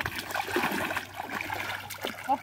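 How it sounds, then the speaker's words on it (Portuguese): Water trickles from a spring at a small pond, a faint gurgling flow with scattered soft splashes and drips, close by and quiet. "Nesse olho d'água."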